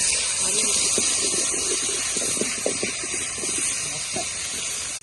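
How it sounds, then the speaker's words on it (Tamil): Steady loud hissing sizzle of ginger and garlic frying in a pan, with faint voices and clatter underneath. "இப்போ ஃப்ரைட் ரைஸை தாளிக்க போகிறாங்க இஞ்சி பூண்டு போட்டாச்சு"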